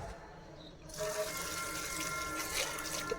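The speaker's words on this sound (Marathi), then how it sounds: "आता याच्यामध्ये पाणी टाकायचं गाईज." Water pours into a pot of pigeon pea pods, a sudden close gush that starts after a quiet moment and runs steadily to the end.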